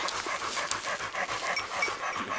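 Tired hunting dogs pant close by in quick, rhythmic breaths, steady and fairly quiet, with no voices over them.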